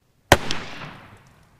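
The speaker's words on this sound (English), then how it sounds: "I'm gonna just put blanks in so it just has a fireball come out." A single sharp bang from a revolver loaded with a blank, a loud close crack with a quick secondary pop and a reverberant tail fading over about a second.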